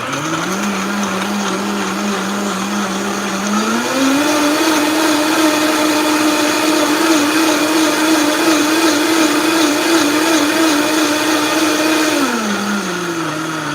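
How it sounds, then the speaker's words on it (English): A blender whirs continuously as it purees garlic, okra and ginger in water, a loud steady motor drone that rises in pitch partway through, holds, then drops back near the end. "You can just blend it."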